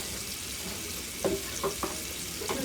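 Pork meat frying in a pan for Louisiana Southern-style green beans with potatoes: a faint steady sizzle with a few soft crackles and pops, no talking.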